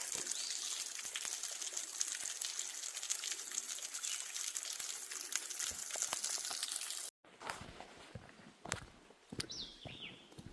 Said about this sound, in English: Unofficially, our third waterfall. I think it's even higher than the last.